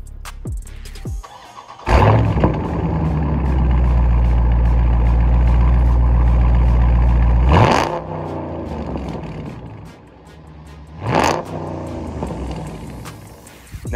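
A 2019 Dodge Charger Scat Pack with a mid muffler delete starts with a loud bark, then holds a deep, rumbling idle before two sharp revs that flare and settle back into a burbling exhaust.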